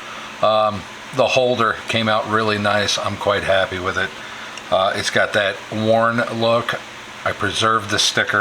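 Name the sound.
fan running in a workshop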